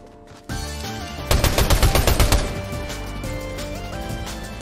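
Gunfire in a video game arrives as a loud, rapid burst of machine-gun shots, a steady rattling volley lasting about a second over a constant game soundtrack hum.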